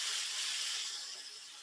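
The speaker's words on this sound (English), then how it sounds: "Hear that sizzle." Steady, bright sizzling hiss of green beans frying in hot oil, close and continuous, gradually easing slightly toward the end.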